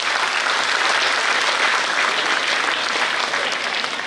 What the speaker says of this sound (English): With a great respect and enthusiasm, a big round of applause